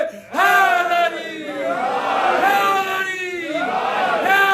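At a majlis gathering a large crowd chants the slogan Haidari in unison, with long, drawn-out shouted calls that rise and fall in waves, loud and close, one after another.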